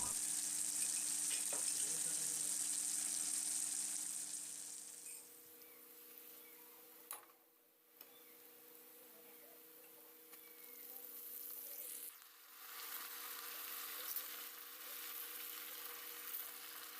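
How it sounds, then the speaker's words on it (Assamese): Garlic and fiddlehead fern sizzle in a hot pan, a bright steady crackle for the first few seconds that then drops to a softer, quieter frying hiss. "থেঠেলি লোৱা নহৰুখিনি দি অলপ ভাজি ঢেকীয়াখিনিও দি দিছোঁ"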